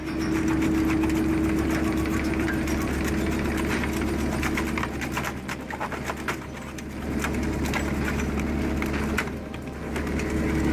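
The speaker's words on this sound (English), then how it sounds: "Argus Impactor 250 Evo, powered by a Volvo Penta diesel, delivers optimal torque with minimal fuel burn." Argus Impactor 250 Evo shredder driven by a Volvo Penta diesel engine, processing wood, tires or concrete: a loud, continuous low diesel drone with a steady hum and dense crackling, splintering debris impacts throughout, close and without talk.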